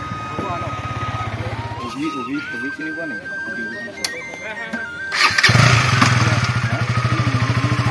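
KTM Duke 200 motorcycle engine running close by while being ridden, a steady chugging idle that gives way to revving in the middle, then a louder, harder engine note returning at the end, with people talking over it.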